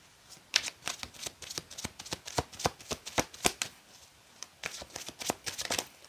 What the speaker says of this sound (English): when I was done shuffling my deck and I put them down